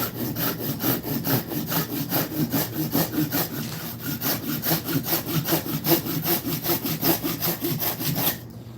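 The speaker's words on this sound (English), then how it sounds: "you're really not using much pressure when you're actually sawing" A hand saw rasps back and forth through dry wood in a steady rhythm of about two strokes per second, close up, then stops.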